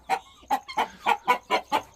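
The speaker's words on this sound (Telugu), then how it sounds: "ఇవి వచ్చేసి చీటీ కోళ్ళు" Small hens cluck nearby in a run of about eight short, evenly spaced clucks, clear and close with nothing else underneath.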